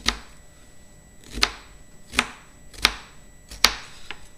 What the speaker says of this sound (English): Then if you cut your onion, don't cut all the way through the root end.